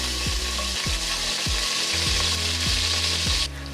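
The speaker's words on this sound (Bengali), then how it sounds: "তেলটা অলরেডি দিয়ে দিয়েছি একটু রসুনটা ভেজে নেব" Garlic frying in hot oil in a pan for a Bengali chicken curry with new potatoes: a loud, steady sizzle close up, broken by a regular series of soft thumps about every half second, with no talk.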